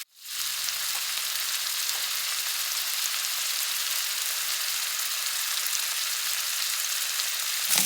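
Steaks fry in a skillet with a loud, dense, unbroken sizzle that starts abruptly and holds steady throughout, with no voices.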